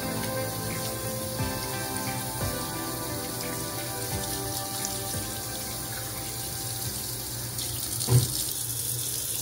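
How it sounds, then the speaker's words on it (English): Water runs steadily from a faucet while soapy hands are rinsed, a constant close splashing hiss with a brief louder splash near the end. "And then we put our soapy hands under the water to wash off the soap."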